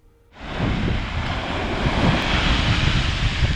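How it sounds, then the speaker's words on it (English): Massive waves slamming the seawall at Tenby, Wales at peak high tide, a sudden surge into a loud, sustained crashing roar of surf and wind that keeps building, close and with no voices. "Witness this heart-pounding moment as massive waves slam the seawall in Tenby, Wales at peak high tide."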